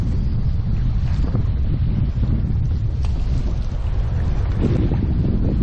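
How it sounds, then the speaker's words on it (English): Strong wind and choppy ocean waves buffet a fishing kayak off Hawaii, a loud, constant roar of gusts and sloshing water with wind rumbling across the microphone throughout. "this wind and waves really picked up"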